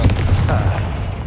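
A Confringo fire spell blasts in Hogwarts Legacy, a loud, close booming explosion with rumbling low end that decays over about a second.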